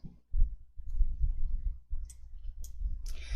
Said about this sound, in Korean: 데이터 탭에 내림차순을 클릭